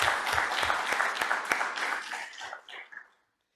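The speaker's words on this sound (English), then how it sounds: "Round of applause, perhaps?" Conference audience in an amphitheater giving a round of applause, a full burst of clapping that thins out and stops abruptly after about three seconds, leaving silence.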